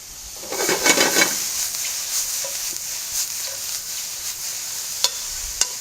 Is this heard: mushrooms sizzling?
yes